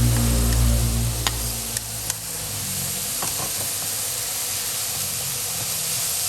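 Corn, onion and mixed vegetables stir-frying in a pan, a steady sizzling hiss throughout with a few faint utensil clicks near the start, no talking.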